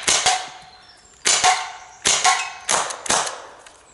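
HDR 68 CO2 pistol firing on a fresh CO2 capsule, a series of sharp, loud cracks in quick pairs and singles with short gaps between them.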